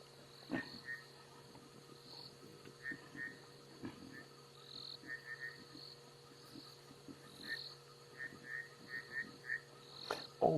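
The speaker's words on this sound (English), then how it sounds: "we can hear some bushveld rain frogs calling now" Bushveld rain frogs call in short, repeated bursts at moderate distance over a steady outdoor hum of insects on a safari drive, with occasional louder knocks.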